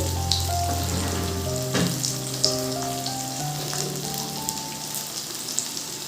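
Potatoes fry in a pan for a Bengali-style spicy potato curry, giving a steady close sizzle with light crackle; a low background hum with faint steady tones runs underneath.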